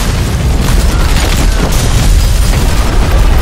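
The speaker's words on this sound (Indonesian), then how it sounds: "bom waktu di bawah meja yang akan meledak dalam waktu 1 menit" A loud, sustained booming roar of a time bomb explosion in the film The Bricklayer fills the whole stretch, dense and rumbling without a break.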